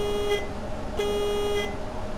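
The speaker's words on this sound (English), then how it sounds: "The horn, listen to the horn." Two short blasts of a vehicle horn, the second held longer, over a steady low engine rumble.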